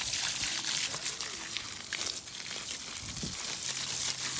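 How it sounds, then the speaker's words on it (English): A pressure washer sprays a steady, loud, hissing jet of water to rinse dirt off a dirty bike, continuous throughout with slight spattering variations. "Pressure wash it off there."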